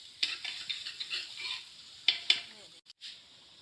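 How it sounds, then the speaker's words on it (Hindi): Ginger-garlic paste fries in a pot for a Lahori mutton hareesa, giving a steady soft sizzle, with a spoon scraping and stirring in quick strokes and two sharper clinks near the end. "अब इसको ज़रा पकाएंगे लहसुन को ताकि इसकी खुशबू"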